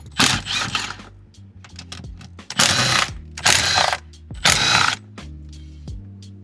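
A hand ratchet backs out 10 mm bolts from a G35 automatic shifter assembly, with three loud bursts of rapid pawl clicking up close separated by brief pauses and small metallic clicks, and no talking.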